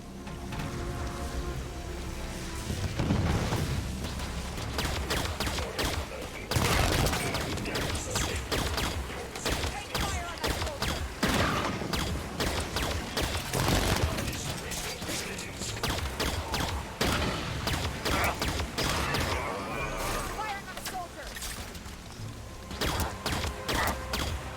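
Rapid bursts of gunfire from the shooter video game Halo 5: Guardians crackle and rattle nearly nonstop, loud and dense, with impacts and mechanical clatter layered through a busy battle mix.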